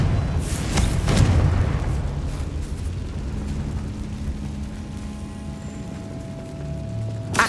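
A Confringo fire spell exploding in Hogwarts Legacy, a loud booming blast near the start that rolls into a long fading rumble, with a faint tonal hum underneath.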